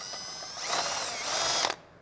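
Ratcheting, whirring mechanical noise of a loose center part of a large bench vise spinning freely under a drill, close and steady for about two seconds before it cuts off.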